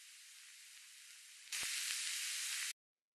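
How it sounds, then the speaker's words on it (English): Soft, steady hiss of filtered noise that suddenly grows brighter and louder partway through, with a few faint clicks, then cuts off to silence. "So the last thing that we have here is just this noise sample."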